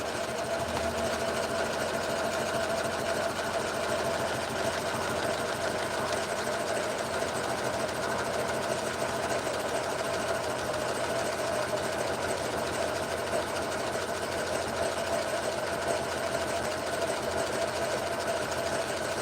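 A sewing machine stitches the final seam around the outside edge of a purse, a steady, continuous mechanical whir that runs unbroken and close throughout.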